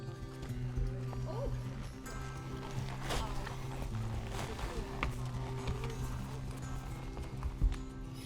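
Horses walk along a ranch trail ride, their hooves clopping softly in an uneven rhythm under a steady background hum, with faint voices mixed in.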